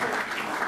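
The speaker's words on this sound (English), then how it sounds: "Let's give a round of applause for the panelists." Audience at a free speech panel discussion applauding the panelists, a brief, steady wash of many hands clapping, fairly soft and heard alone.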